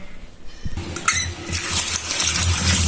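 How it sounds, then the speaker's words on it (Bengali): Cut green tomatoes are rubbed and swished by hand in water, making close, continuous splashing and sloshing that grows fuller after the first second. "এখন এগুলো কোসলিয়ে কোসলিয়ে ধুয়ে নেব যাতে টকটা বেশি না থাকে"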